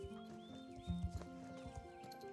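Horse hooves clip-clopping in the video game Star Stable Online, a quick run of soft rhythmic beats over steady game music, with a brief louder cluster of hoof hits midway.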